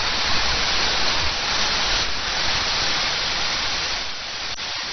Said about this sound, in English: So here we are right under China's longest waterfall.